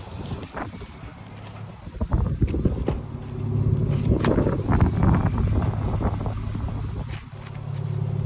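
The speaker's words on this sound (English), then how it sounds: "Such a beautiful sound from that straight six engine" The straight-six engine of a BMW X3M Competition drones and builds in pitch while driving, with wind buffeting and road noise over it. The sound is moderately loud and steady, with no talking.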